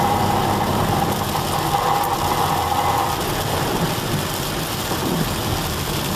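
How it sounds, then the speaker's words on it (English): Heavy rain drumming steadily on a moving van during a stormy drive, a dense continuous wash with the engine humming underneath and no clear thunder crack standing out. "van's doing pretty good in this rain"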